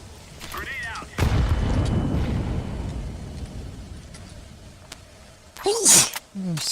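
A grenade goes off in a video game, a sudden loud boom followed by a long rumbling decay lasting several seconds. A person's voice is heard faintly before the blast and clearly near the end.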